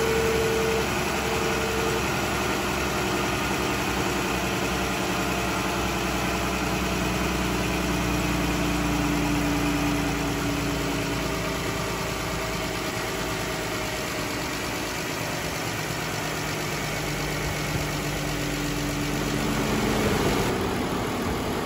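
A Dodge Durango's 3.6 Pentastar V6, recently overheated from a failed oil cooler, idles with a steady, even rumble that runs unbroken for the whole stretch, with no voices over it.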